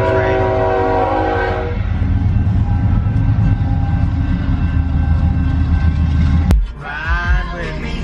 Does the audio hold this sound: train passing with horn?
yes